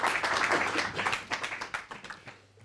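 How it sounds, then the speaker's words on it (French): A conference audience applauds a guest speaker: dense, close clapping from many hands, loud at first and then thinning into fewer separate claps before fading out. "je vous prie de l'applaudir"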